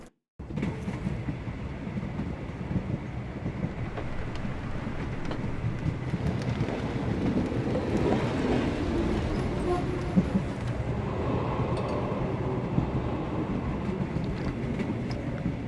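A train travels at a steady pace in the video game Sherlock Holmes: The Awakened, heading overnight toward Interlaken, Switzerland, a continuous low rumble and rattle of carriages that holds steady and loud throughout with no voices.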